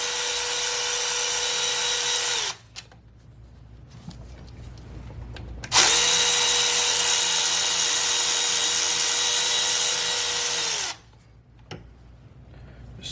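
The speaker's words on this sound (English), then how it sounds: "remove these 8mm bolts off the front of the EGR cooler" A power tool removes 8mm bolts from the EGR cooler on a 2017–2019 Ford F250/F350 6.7 Powerstroke diesel, whirring loudly and steadily in two long runs separated by a short pause, with faint clicks between them.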